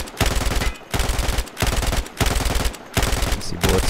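Battlefield 4 light machine gun bursts with the recoil pulled down: three rapid, loud clusters of automatic shots separated by short pauses, with no talk.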